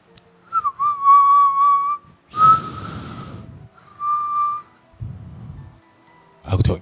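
Eerie human whistling in a horror tale set in a graveyard late at night, a sustained wavering tone repeated in a few phrases and broken by breathy noise bursts, close and fairly loud.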